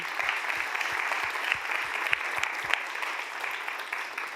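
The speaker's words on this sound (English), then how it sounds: "A big applause for Surya." An audience at a talk event applauds, a steady, moderately distant patter of many hands clapping, with a few low thumps through the first half.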